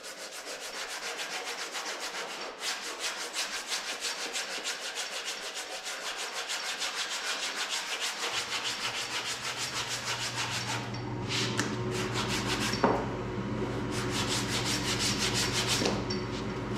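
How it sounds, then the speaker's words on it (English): Rhythmic back-and-forth scuffing and sanding across the surface of a 2nd-generation Camaro door before body filler, a steady close scratchy rubbing that continues throughout, with a low hum joining partway. "Scuff the surface up,"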